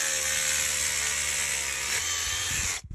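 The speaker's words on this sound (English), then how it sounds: "that's the last hole for our little anchor brackets that'll hold the bottom of this securely to the concrete" A handheld rotohammer bores a hole into concrete to anchor a galvanized steel tank ladder, giving a loud, steady, buzzing hammer-drill whine close by that cuts off abruptly near the end.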